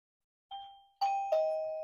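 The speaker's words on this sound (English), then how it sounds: "Press the doorbell." A Mubview wireless doorbell chime rings after pairing, playing a short tone followed by two ringing, bell-like notes that decay slowly, close and clear in a quiet room.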